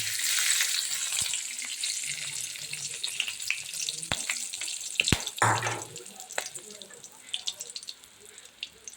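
Whole crushed cardamom, cinnamon and spices fry in hot oil, a bright steady sizzle with crackles and a few sharp spatula clicks that fade toward the end, no talking.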